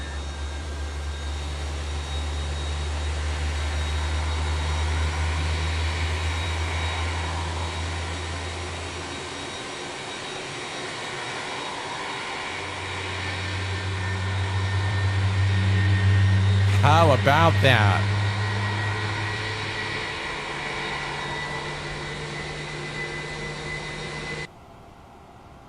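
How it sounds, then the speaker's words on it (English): IAE jet engines of an FSLabs Airbus A321 in the MSFS 2024 flight simulator, a steady low roar and whine that swells and fades, with a brief burst of crackling partway through and a voice talking over it. "Gotta love the IAE engine sounds."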